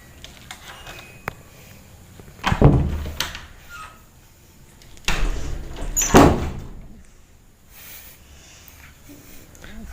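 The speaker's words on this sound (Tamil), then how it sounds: "கொஞ்சம் மெதுவாக கதவை பூட்டிட்டு போங்க" A door being shut and locked, with two distinct heavy thuds several seconds apart over steady indoor room noise.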